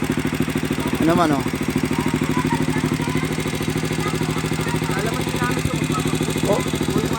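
A homemade motorcycle with car tires idling nearby, a steady low rhythmic engine putter with faint clatter running throughout, while someone talks over it.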